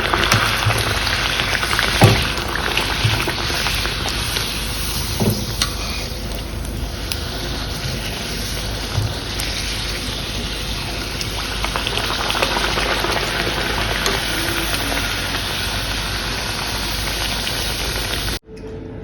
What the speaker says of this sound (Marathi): तेल छान तापले आहे. आता आपण त्याच्यामध्ये पुरी तळून घेऊया.